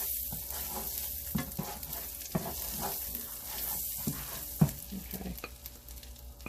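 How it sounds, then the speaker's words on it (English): Garlic fries in butter and pan juices with a quiet, crackling sizzle, and a utensil repeatedly taps and scrapes the pan. One short word is spoken partway through. "I'm just going to put my garlic in first"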